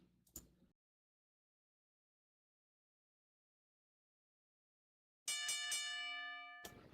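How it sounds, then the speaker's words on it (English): At a wrestling event, a match bell rings out a quick series of bright, ringing strikes after a long silence, each clang lingering with a metallic decay. "And there goes the bell, and it's time to start things off."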